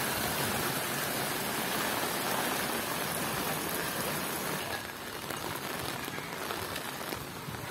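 Floodwater after a torrential downpour in Temryuk, Krasnodar region, rushing along a flooded street as a steady, loud, broadband wash of flowing water that continues without a break.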